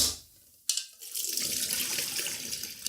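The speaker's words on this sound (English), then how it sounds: "So empty the water out" Rice rinse water poured out of a pot into a kitchen sink: after a brief quiet moment, a sudden rushing splash becomes a steady loud gush of running water that continues to the end, close by.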